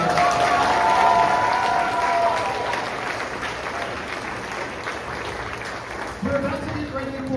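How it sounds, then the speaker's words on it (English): Audience at a high school spring choir concert gives the varsity choir sustained applause, a dense crowd of clapping that stays loud then gradually thins, with a voice over a sound system cutting in near the end. "One more round of applause for our varsity choir."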